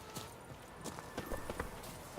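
Horse hooves clip-clop in a quick, irregular rhythm at a moderate distance in The Witcher 3, soft and a bit muffled, with no talking.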